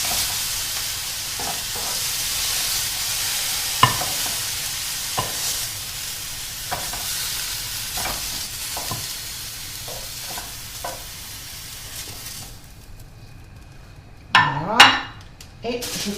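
Beef pieces sizzle in a frying pan as they are turned over with utensils, a steady hiss broken by several light clinks and scrapes, ending in a short louder clatter of pan or lid.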